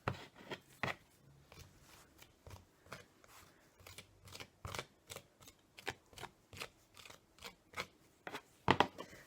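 A spatula scrapes excess clay off a handmade ceramic dove, giving a run of short, crisp scraping strokes in an uneven rhythm, close and fairly quiet, with a sharper cluster near the end.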